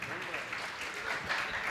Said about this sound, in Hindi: एक बार तालियां बजाकर मुझे बताएं कि आप मुझे सुन रहे हैं।